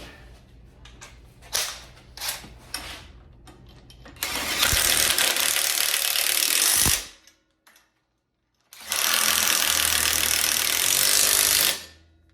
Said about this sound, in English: then I'm going to tighten these down, make sure that's all the way tight.